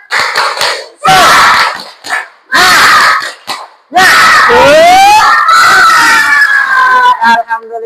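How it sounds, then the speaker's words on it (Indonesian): A group of children at school do a rhythmic spirit clap cheer, loud bursts of clapping and shouted chanting in alternating phrases, very close and energetic, ending in scattered claps. "Tepuk semangat."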